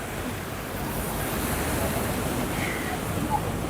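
River water rushing steadily at Harike headworks, where the Beas and Sutlej meet, a broad continuous roar heard close by with no pauses.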